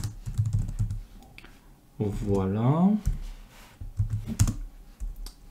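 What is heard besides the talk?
typing on a computer keyboard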